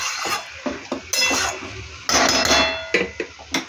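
A spoon scrapes and clatters around a pan of sutki fish mash, bursts of stirring knocks and metal scrapes up close, followed by the lid being set on, with a faint sizzle underneath.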